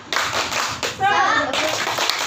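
A group of children in a classroom lesson does a cheer clap, with bursts of sharp, quick clapping split by a short pause where young voices call out.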